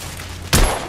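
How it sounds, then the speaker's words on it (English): A single loud gunshot bursts out in the video game The Order: 1886, sharp and close, over a low steady game background. "I'm under heavy fire."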